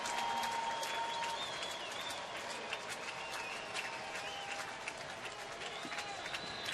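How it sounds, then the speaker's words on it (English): Fans at a 2011 Texas versus Oakland baseball game applaud Oakland batter Michael Taylor, a steady wash of distant clapping and crowd noise from the stands, with an announcer talking over it. "So Taylor gets a nice round of applause,"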